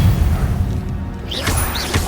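A Confringo blasting spell in the Hogwarts Legacy video game strikes with one crashing impact and a swooshing burst, loud and up close, with a low rumble under it.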